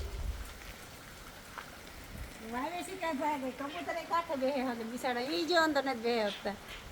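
Steady rain patters in the background while a person talks over it for most of the clip.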